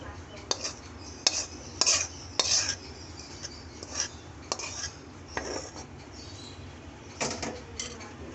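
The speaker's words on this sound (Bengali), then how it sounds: "আমরা এখন বাটিতে ঢেলে এটা একটা টেবিলে দিয়ে দেবো" Chickpea curry is ladled from the cooking pot into a serving bowl, heard as a series of close metal scrapes and clinks of spoon on pot and bowl, spaced irregularly against a quiet background.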